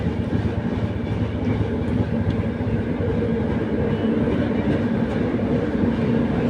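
A passenger train on the Karur to Mysore line, nearing Hosur, runs with a steady rumbling roar and continuous rail clatter, loud and unbroken throughout.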